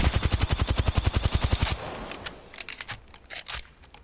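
Rapid automatic gunfire from the shooter Apex Legends, a steady burst of about twenty loud, evenly spaced shots lasting under two seconds, followed by scattered fainter clicks and game effects.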